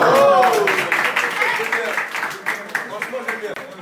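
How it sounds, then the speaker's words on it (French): Audience applause breaks out after being invited, a dense run of claps that thins toward the end while a voice talks over it. "Et vous pouvez les applaudir."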